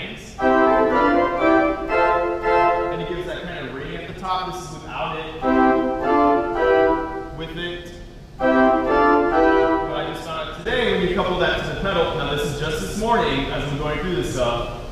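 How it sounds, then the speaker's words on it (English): A church pipe organ sounds a very high mixture stop that blends three ranks of pipes into bright, reedy chords. Held notes come in loud sustained phrases with short breaks between them, and no talking is heard. "that's a really high stop called the mixer, which is actually a combination of three different pipes"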